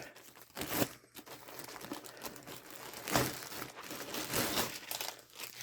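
Crinkly plastic zipper-seal storage bags, a large pack of two dozen, rustled and crumpled by hand in close, continuous bursts of crackling with a couple of louder crinkles, no talking.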